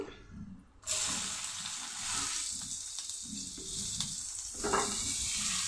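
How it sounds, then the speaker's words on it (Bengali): Chopped onion with panch phoron frying in a pan, a sudden burst of hissing sizzle that holds steady and fairly quiet, with a brief louder flare near the end, no talking. "দিয়ে একটু ভেজে নিচ্ছি"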